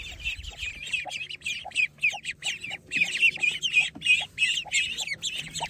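Hens cluck steadily in a soft, repeated rhythm, with sharper chirping calls layered over the top, like a small flock pecking around nearby.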